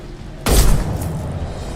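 A heavy gunshot in Mass Effect 2 lands as one loud, deep boom with a broad blast that decays slowly into a lingering rumble.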